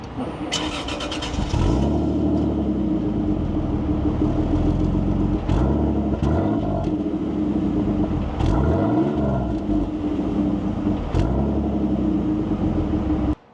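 A 1997 Toyota Supra MKIV starts and settles into a deep, throaty rumble through its single exhaust, with several revs rising and falling, close and loud.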